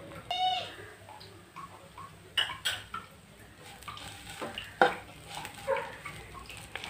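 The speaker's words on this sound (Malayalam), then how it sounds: "പൊടിയുടെ എല്ലാം പച്ചമണം മാറുന്നത് വരെ നന്നായി ഒന്ന് വഴറ്റി കൊടുക്കാം" Garam masala and turmeric powder sautéed in a pan for a Kerala-style potato beef curry, with a spatula scraping and clinking against the metal pan in scattered, moderately loud strokes over a faint background.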